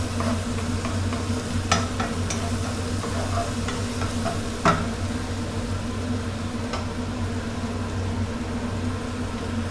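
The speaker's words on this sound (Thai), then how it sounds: "เราต้องผัดจนกว่าพริกกับกระเทียมจะหอมติดจมูกเลยนะครับ" Chili and garlic stir-fried in hot oil in a wok over high heat for a squid basil dish: a steady, close sizzle runs throughout, with occasional sharp spatula clinks against the pan and no talking.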